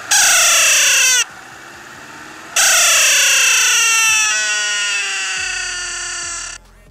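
A Ford Mustang EcoBoost 2016 turbo with a stage 2 remap gives a loud, fluttering, duck-like valve chatter in two long bursts separated by a short pause, the second fading slowly before cutting off.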